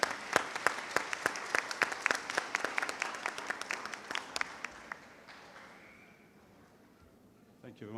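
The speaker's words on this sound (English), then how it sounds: "Let's give a round of applause to each one of them." A commencement audience gives a round of applause, starting as loud, distinct, fairly rhythmic claps that thin out and fade after about five seconds, with a brief voice at the very end.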